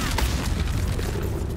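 A lightning spell strikes in the video game Baldur's Gate 3, a short, loud crackling boom with a rumbling low end that fills the whole moment.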